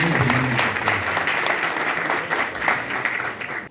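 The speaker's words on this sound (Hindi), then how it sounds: "आपका तालियों के साथ स्वागत करते हैं।" A crowd claps steadily and enthusiastically, dense applause filling the whole stretch with no pauses.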